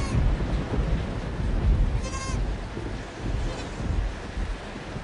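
A goat lets out a short, clear bleat near the middle of the moment, heard outdoors over steady wind noise and a rumbling background.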